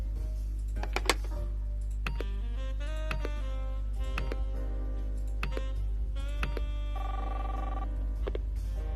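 A telephone in the detective game Nine Noir Lives rings after a number is dialed, with soft repeating electronic ring tones and small ticks over a steady low background hum, no talk.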